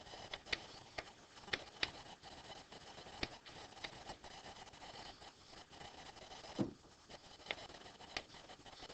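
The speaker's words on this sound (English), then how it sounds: "Actually, I'll write it all out, okay?" A derivative is written out by hand in a calculus lesson, with soft scratchy pen or marker strokes and light taps coming in short irregular bursts, faint and close, without talking.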